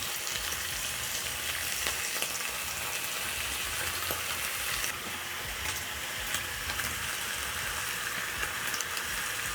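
Bacon strips frying in cooking oil in a pan on the stove, a continuous close crackling sizzle with scattered pops and spits throughout, no voices.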